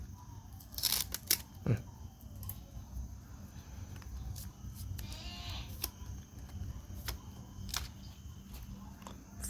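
Close, crisp crinkling and tearing of foil as Cardfight Vanguard D-BT05 booster packs are ripped open, with sharp rips early on, then softer rustling of wrappers and cards against a quiet room.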